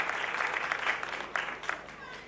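An audience applauds for a child, a short burst of steady clapping that stays moderately loud and then tapers off slightly, with a voice talking over it.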